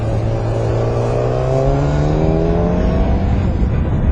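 A loud 2008 Yamaha FZ1 motorcycle engine with stock exhaust drones steadily as it climbs smoothly through the revs, heard up close without any talking.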